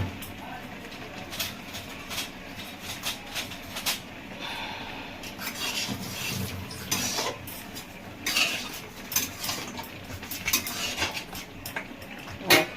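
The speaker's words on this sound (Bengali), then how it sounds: "এবার এটাকে আমি গুলিয়ে নেব।" Soybean pakora batter mixed in a bowl with a spoon, irregular scraping and clinking of utensil against the bowl, close and fairly quiet, in uneven bursts.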